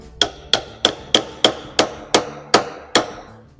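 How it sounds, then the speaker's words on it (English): Nine sharp hammer blows drive a lathe centre into a wood block at a steady, even pace, each a bright metallic crack with a short ringing tail, close and fairly loud. "drive a little bit with the hammer"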